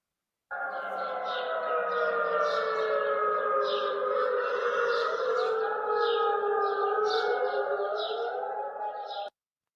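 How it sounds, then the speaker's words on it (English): Air raid civil defense sirens wailing continuously, several overlapping tones rising and falling together, loud and steady, heard from outdoors, with no talk over them. "the sirens just happened. This is what they sound like."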